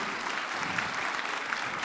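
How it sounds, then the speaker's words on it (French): Steady applause from a quiz-show audience for a contestant's correct answer, a thick even wash of many hands clapping, moderately loud throughout. "on peut l'applaudir"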